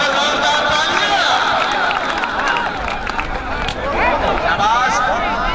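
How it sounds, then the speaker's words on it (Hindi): Crowd at an outdoor kabaddi match cheering and clapping, a dense, loud wash of applause and shouting under an excited announcer's voice throughout. "मुगल वास्ते जोरदार तालियां।"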